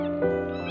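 An abandoned kitten dumped at a market cries for its mother with one loud, drawn-out, strained meow, close up and harmonic, rising in pitch at the end.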